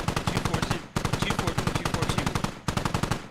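Sustained machine gun fire in the military shooter game Squad rattles in fast, even bursts with two short breaks, loud and close, with faint voices underneath.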